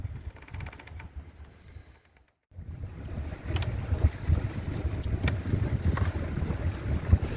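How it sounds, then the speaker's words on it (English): Southeast wind buffets a sailboat cruising toward Galiano Island, a steady rushing roar of wind on the microphone with water noise underneath, briefly dropping out before returning louder. "southeast wind is actually blowing today"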